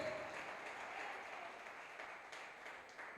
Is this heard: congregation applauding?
yes